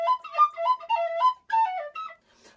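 A tin whistle plays a short blues phrase, clear and close, with bright sustained notes and quick ornaments in a few connected bursts before fading into a faint breathy tail.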